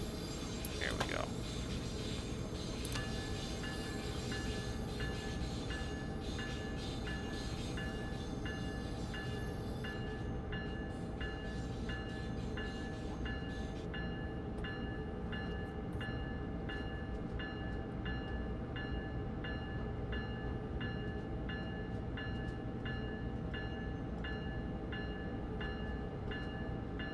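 An Amtrak train on the Northeast Corridor in Train Simulator 2022 gives a continuous loud rolling rumble with steady rail noise and a brief horn-like tone near the start, while someone talks over it.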